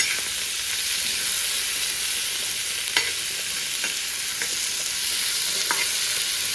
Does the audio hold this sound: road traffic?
no